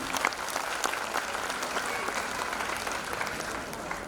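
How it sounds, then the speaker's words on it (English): An audience applauds a children's performance at a school fiesta, a dense, continuous round of clapping from a sizeable crowd that holds at an even, full level throughout. "please keep on clapping for the kids what they are performing"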